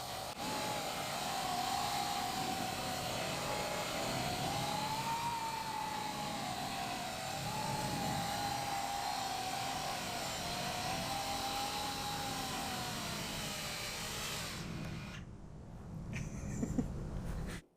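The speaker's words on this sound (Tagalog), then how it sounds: "Lumilipad na ito sa kalahating throttle pa lang." A Coanda effect propulsion drone flies at half throttle, giving a steady, loud motor whine with a wavering pitch and broad rushing airflow that holds for about fourteen seconds, then cuts off sharply, leaving near silence.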